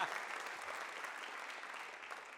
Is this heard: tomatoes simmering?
no